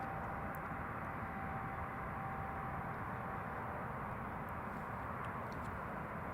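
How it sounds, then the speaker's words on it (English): An Aer Lingus ATR turboprop airliner coming in to land at Glasgow Airport, a steady broad engine roar heard at a distance, continuous and even with a faint tonal whine and no speech. "ATR just about to land."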